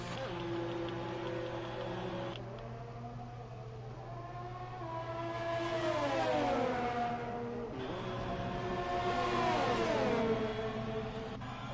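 Race cars in a Formula racing video game at the Bahrain Grand Prix pulling into the pits after qualifying, a steady engine drone with rising and falling revving whines, two cars sweeping past in turn, loud and continuous.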